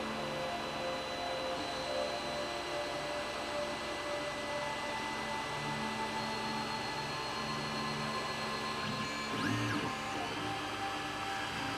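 A 3D printer runs a print with a steady mechanical hum and faint motor whine, broken by a brief chirping motor burst near the end.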